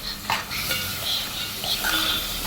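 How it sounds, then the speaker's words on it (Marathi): Shelled field beans (val) being sautéed in a pan, with a steady close sizzle and a few scraping stirs of the spoon against the pan throughout. "हे आता वालाचं बिरडं असं परतून घ्यायचं व्यवस्थित"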